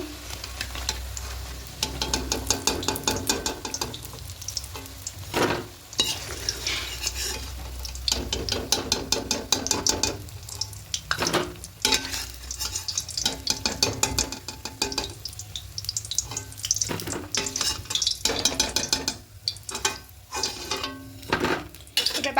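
Stuffed Maggi noodle snacks with potato filling fry in very hot oil, a continuous loud sizzle broken by repeated scrapes and clinks of a spatula stirring against the pan.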